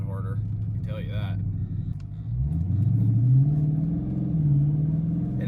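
A car with a pulled fuse revs and accelerates, its engine rising in pitch with a rumbling downshift, close and loud, while someone talks over it.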